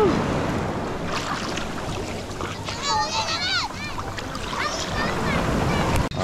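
Rough water sloshes and splashes around a boat amid wind noise, while children chatter and squeal excitedly throughout.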